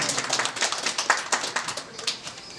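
Audience at a gallery's opening ceremony claps in a loose, scattered burst of close hand claps that holds steady, then thins toward the end, with no talk over it.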